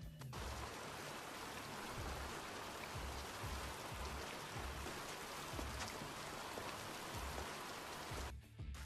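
Rain falls steadily in an anime episode, a dense, even hiss that continues unbroken and briefly thins just before the end.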